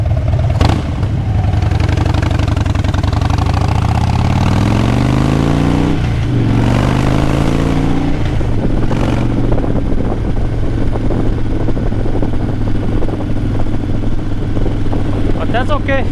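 Motorcycle exhaust pipes rumble loud and close throughout, the engine revving up and easing off in a couple of swells before settling into a steady throaty drone.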